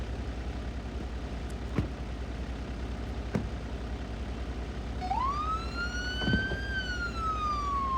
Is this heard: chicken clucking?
no